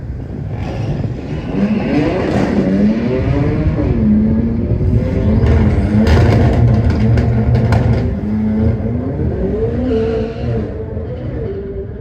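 A Midland VW Mark 7 and a Caddy drag race at Santa Pod on a test day, their engines roaring loudly and continuously as they launch and pull through the gears with rising and falling revs.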